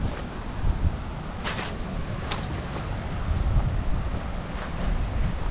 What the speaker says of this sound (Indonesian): Sudah kedengeran suara ombaknya di sana.